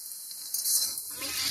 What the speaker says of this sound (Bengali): বেরেস্তাটা ফ্রাই করব